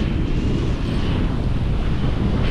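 Ocean surf and strong wind on a beach under stormy skies, a dense, continuous roar of breaking white water with heavy wind buffeting the microphone, close and loud without pause.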